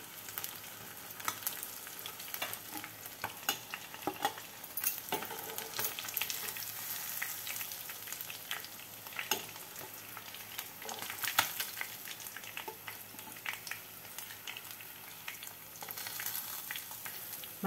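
Fish fries in a small amount of oil in a home Andhra kitchen, a steady, dense crackle and sizzle with scattered sharper pops, moderately close and continuous, with no talking.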